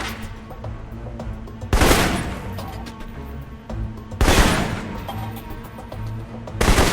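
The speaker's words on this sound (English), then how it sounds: "For long-range encounters, the assault rifle's the key." An assault rifle in the Alpha Protocol game fires three loud, widely spaced shots or short bursts that ring out sharply over a quieter ambient background, with no talking.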